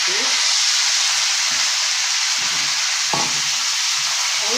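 Masala sizzles hard as it is poured into a pan of frying crab, a loud steady crackling hiss with faint stirring and scraping clatter underneath.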